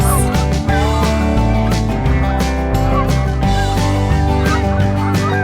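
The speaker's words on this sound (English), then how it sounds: "Some white geese." White geese honking in short repeated calls from a toy farm animal set, mixed over loud background music with a steady beat.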